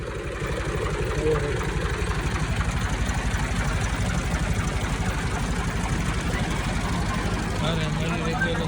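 A tractor engine idling at a steady, unbroken rumble close by, with a faint voice talking over it.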